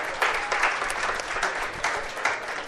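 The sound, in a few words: audience applause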